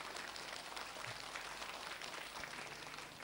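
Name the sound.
audience applause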